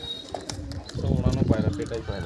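Madras pigeons in a loft coo in soft, throaty bursts, with someone talking over and between them.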